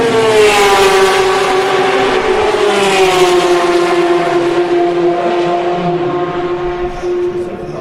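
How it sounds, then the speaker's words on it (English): Race cars lapping Le Mans at night around midnight, a loud continuous engine drone with sliding harmonic pitch as cars sweep past, layered and steady throughout with no talking. "The sound of Le Mans at night, at midnight, at 180 degrees stereo."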